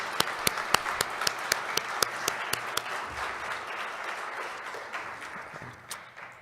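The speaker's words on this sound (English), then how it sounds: "let's have one more round of applause for all our Trademarks for Humanity winners" An audience at a USPTO awards ceremony for Patents and Trademarks for Humanity applauds the trademark winners: sustained crowd clapping with sharp individual claps early on, gradually thinning and fading toward the end.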